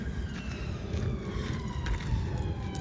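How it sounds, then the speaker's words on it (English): A siren wails faintly in the distance over a steady low outdoor rumble. "Sounds like the police or an ambulance."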